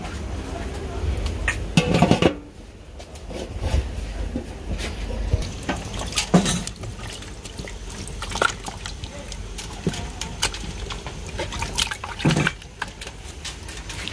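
Tap water running and splashing while steamed food is rinsed in a kitchen, with sloshing and occasional clanks of pots, under people talking.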